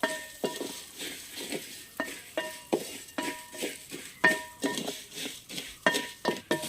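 Light stirring of vermicelli roasting in a pan with soft sizzling, punctuated by repeated metallic clinks of a utensil against the pan at an uneven rhythm.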